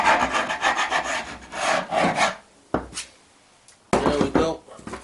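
A tool scrapes spilled varnish off a wooden coffee table piece. Close, rough rasping strokes come in quick rhythmic bursts, with pauses between them.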